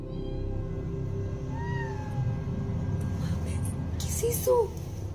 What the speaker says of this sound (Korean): 어두운 방에서 고양이 소리가 들려오죠